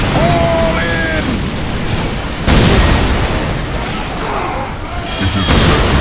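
Grenade blast in the strategy game Dawn of War Dark Crusade, a Space Marine battle on the Ork mainland; a broad booming burst swells up amid continuous battle noise and stays loud, with game voices heard around it.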